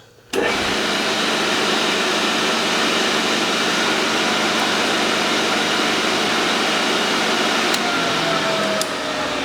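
An SCMI T110i sliding and tilting 9 hp spindle shaper running in reverse, a loud steady motor whine and airy roar starting abruptly and holding constant, with a couple of faint clicks near the end.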